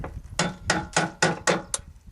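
A 1/4 inch socket extension hammered up against a door hinge pin on a 1988 Chevy, six sharp metallic knocks in an uneven rhythm, close and loud.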